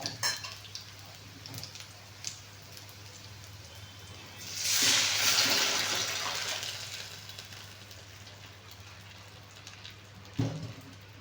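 Rasam is poured into a dish in one steady splashing stream lasting a couple of seconds, then tapers off, with a clink of utensil near the end; no one speaks.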